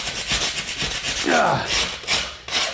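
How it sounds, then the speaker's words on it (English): A chunk chiselled off during vinyl plank flooring installation: rapid, close rasping and scraping strokes in a steady rhythm, with a brief squeaky scrape partway through. "you see how I got to chisel this off now?"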